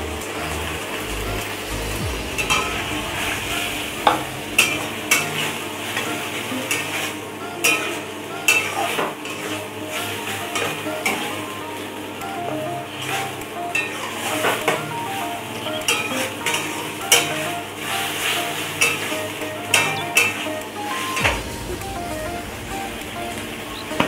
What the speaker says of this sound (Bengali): এবার এর মধ্যে দিয়ে দিচ্ছি পেঁয়াজ কুচিগুলো।